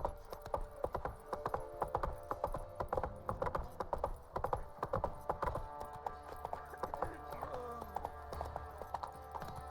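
The horse Roach trots in The Witcher 3, steady clip-clopping hooves in an even rhythm close by, with a soft snort, game music tones and someone speaking over parts of it.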